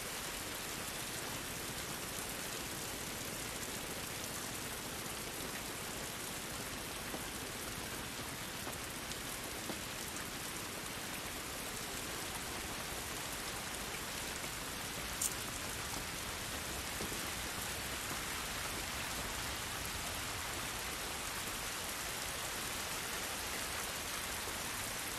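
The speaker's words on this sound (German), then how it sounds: "Dieser Regen ist nicht gut für uns." Heavy rain in The Last of Us pours steadily and densely for the whole stretch, a close, even hiss with no break and no voices.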